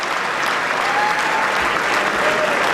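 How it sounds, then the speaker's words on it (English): A congressional audience applauds Benjamin Netanyahu's address to Congress, a dense, steady wash of clapping that fills the room without a break. "after a robust level of applause"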